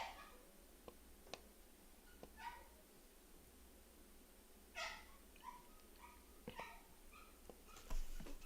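A pet dog behind a door lets out faint, scattered whimpers and short yips, distant and muffled, separated by quiet gaps.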